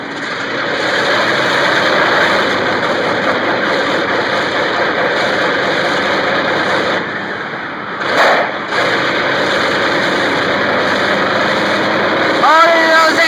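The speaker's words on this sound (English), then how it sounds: "Oh, those engines sound bad!" Old propeller aircraft engines turn over and run, a loud, continuous rumbling drone with a brief dip and surge midway, near and heavy. People talk over the engine noise.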